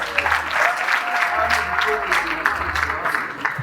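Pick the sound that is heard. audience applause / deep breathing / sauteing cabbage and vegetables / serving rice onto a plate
audience applause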